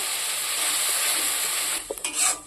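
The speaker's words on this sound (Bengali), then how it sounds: "টমেটোটা দিয়ে দেবো সুন্দর করে মশলাটাকে কষিয়ে নেব" Tomato and spice masala sizzles and is stirred in a pan for chicken curry, a steady close frying hiss with a few scraping stirs near the end, no talk.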